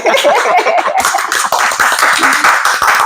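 Quick rhythmic clapping up close, a small burst of applause with light laughter mixed in.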